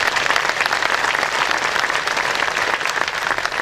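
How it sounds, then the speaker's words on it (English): Audience applause at the 19th Annual Lake Tahoe Summit, a thick, constant patter of many people clapping, loud and close, filling the whole stretch without any talk. "Give him a round of applause, please."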